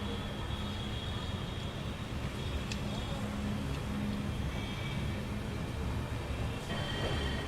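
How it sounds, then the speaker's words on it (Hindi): Amrit Bharat Express train rolling slowly through Aligarh Junction, a steady low rumble of wheels and carriage noise heard from on board with faint squeals. "चलिए फिलहाल अलीगढ़ जंक्शन स्किप मार रहे हैं धीमी रफ्तार में"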